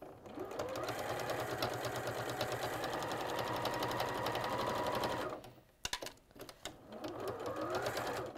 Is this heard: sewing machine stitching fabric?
yes